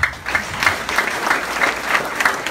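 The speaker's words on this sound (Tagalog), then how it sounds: "Palakpakan natin." An audience at an AIM Global business event applauds a guest ambassador, a full, continuous roar of many hands clapping with slight rhythmic pulses, fairly loud and close.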